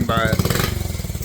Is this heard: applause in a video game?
no